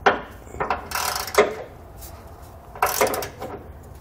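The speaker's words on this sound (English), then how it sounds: "We can now come back with a 9/16 socket and just tighten down our hardware." Ratchet with a 9/16 socket snugging down the hardware on Firestone Ride-Rite air helper springs, heard as a few short, close bursts of mechanical clicking separated by brief pauses.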